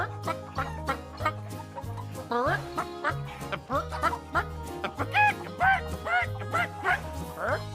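A bouncy children's nursery-rhyme hoedown, with a performer's voice imitating a big red hen's clucking in short rhythmic bursts over loud, steady backing music.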